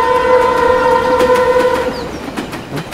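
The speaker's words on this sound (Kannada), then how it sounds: "Train is going." A passing train with a steady horn tone over rumbling wheels and rhythmic clickety-clack, loud and close.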